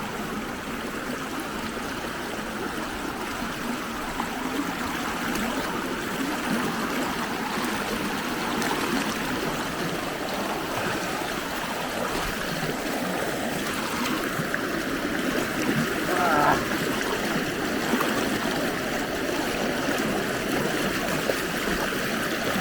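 River water rushing steadily during a crossing in the lakes and pools of North Wales, a continuous close babbling flow with no talk.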